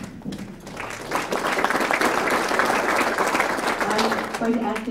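A chamber of commerce luncheon audience breaks into applause that builds within a second and holds steady and loud to the end, with a few voices mixed in.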